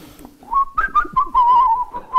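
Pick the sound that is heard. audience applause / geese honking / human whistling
human whistling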